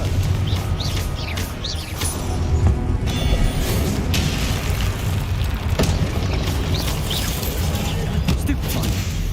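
Magical blasts and booming impacts from the Confringo spell in Hogwarts Legacy, set against a busy, noisy battle bed with chirps and creaks, several muffled booms across the stretch.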